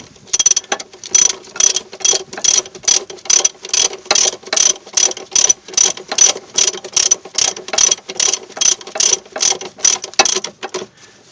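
Ratchet tightening a brake bolt: a loud, close run of about twenty regular clicking bursts, each a quick pawl rattle in a steady back-and-forth rhythm, with no talk.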